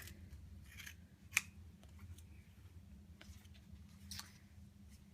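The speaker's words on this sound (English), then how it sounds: "And you'll need to cut your tape." Scissors snip through athletic tape for a shoulder taping job, a few quiet separate cuts spread across the stretch with one sharper snip standing out, close by in a quiet room.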